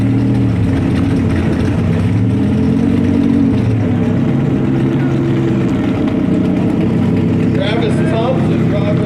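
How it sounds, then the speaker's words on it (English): Twin-turbo Lamborghini built by LMR lined up against a McLaren at the drag strip, engines idling and revving loudly and steadily throughout, with voices faintly over the engine noise. "his LMR built Lambo is going to take on the McLaren"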